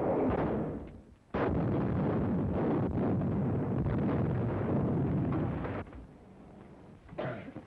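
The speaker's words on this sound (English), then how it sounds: "Explosion in the cave." A cave explosion in a 1934 film serial comes as a heavy, sustained roar and rumble that breaks off briefly, then surges back loud and long before fading, with a final short blast near the end.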